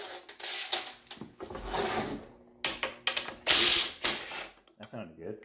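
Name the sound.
3/8 socket ratchet removing engine front cover bolts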